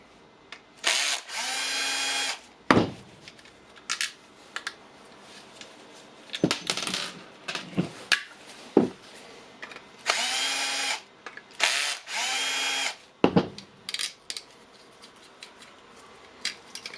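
A failed DeWalt XR 18V battery pack is being opened with a power tool. Short bursts of drilling or unscrewing alternate with clicks, taps and small parts rattling close by, and nobody talks.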